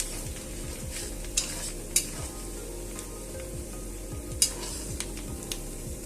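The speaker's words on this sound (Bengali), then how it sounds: "এই যে বাবেলসটা দেখছো তোমরা সবাই, এটা হচ্ছে পুরো মাছের তেলটাই গলেই গেছে।" Fish oil bubbles and fries steadily in a pan, a continuous sizzle with soft popping, and a few light clinks of a utensil stirring now and then.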